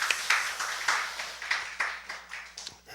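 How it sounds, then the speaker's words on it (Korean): A church congregation clapping together after a Sunday service prayer, a steady rhythmic beat of many hands about three claps per second, moderately loud and close, with no talking. "박수."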